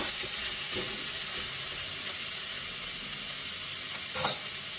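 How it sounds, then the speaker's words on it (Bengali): Ivy gourd, potato, onion and a few peas sizzle steadily in a pan, a continuous close frying hiss broken by a few soft stirring scrapes and a sharper clink near the end. "এটাকে একটু ভালো করে কষাতে হবে"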